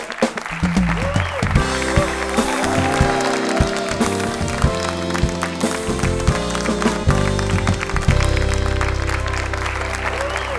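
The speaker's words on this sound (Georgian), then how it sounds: "აპლოდისმენტები." A TV studio audience at a Georgian late-night talk show breaks into loud, continuous applause as a zoo director guest is welcomed, with dense clapping and some crowd noise lasting about ten seconds.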